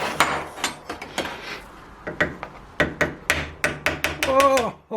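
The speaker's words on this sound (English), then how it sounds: "There is really no way other than hit it with a hammer." A hammer strikes over and over to drive out a bearing from a ZX45 spindle, making sharp metallic knocks close up. The blows land irregularly and crowd faster toward the end, where a ringing metal tone follows.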